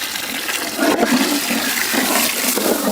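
Plain water gushes and splashes steadily into a large goat biryani cooking pot at an outdoor village cooking site, loud and close with a surging rush partway through.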